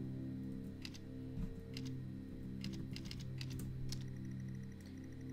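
Keys clatter in short irregular bursts on a computer keyboard while playing the text adventure Stories Untold, quiet taps over a steady low electrical hum, no voices.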